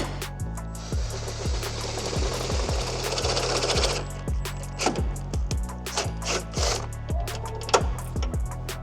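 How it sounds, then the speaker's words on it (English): A power drill with a drill bit bores holes in car body panels while fitting an oil cooler guard on a G90/G99 M5. A steady grinding whir carries repeated rising and falling pitch sweeps and rattling bursts, loud and close. "And then we'll go ahead and use our drill bit."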